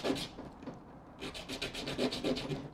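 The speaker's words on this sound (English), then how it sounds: "I've sanded one pretty rough. I'm going to have to sand all four." Sandpaper rubbing on a Master Airscrew drone propeller, quiet close scratchy strokes, a short burst and then a faster run of rhythmic back-and-forth passes.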